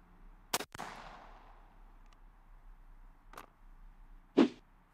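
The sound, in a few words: 410 shotgun firing Pendleton number 9 shot load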